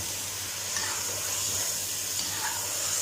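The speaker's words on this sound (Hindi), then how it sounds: "2 चम्मच भरकर हम यहाँ पे अदरक और लहसुन का जो है पेस्ट है वो डालेंगे और इसके साथ इसे 1-2 मिनट के लिए जो है वो भून लेंगे" Ginger garlic paste fries with chicken in a pan for chicken korma, giving a steady, close, even sizzle and hiss with no talking over it.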